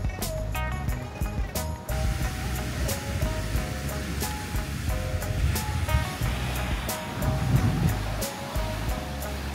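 Steady broadband wash of surf on a beach, waves rolling in continuously with some louder surges, plus faint distant tonal hums.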